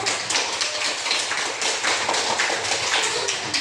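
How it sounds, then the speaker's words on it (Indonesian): Classmates clap for a group in a classroom, a dense, steady patter of many hands filling the whole stretch without talk. "tepuk tangan untuk kelompok"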